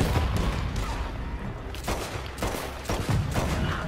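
Mauser pistol shots in Red Dead Online at a fort, several sharp reports spaced irregularly over a noisy outdoor game ambience, moderately loud.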